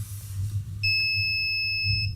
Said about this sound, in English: It makes a buzzer.